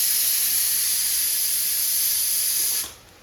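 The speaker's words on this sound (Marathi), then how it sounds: "इकडं भात कुकरचं शिट्ट्या व्हायला लागलं" A pressure cooker cooking rice lets out a loud, steady, high-pitched whistle with hissing steam. The sound holds for nearly three seconds, then fades out quickly.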